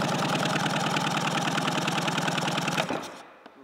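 A 1997 Sea-Doo GSI 717/720 two-stroke engine runs on a shelf during a compression test, a loud, steady, rapid buzzing idle that cuts off abruptly near the end, leaving brief near-silence.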